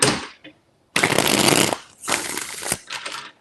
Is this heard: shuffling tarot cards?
yes